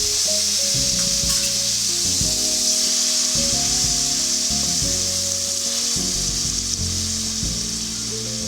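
Spice mix sizzles with onions in a hot pan, a loud continuous frying hiss broken by repeated stirring scrapes, with no talk.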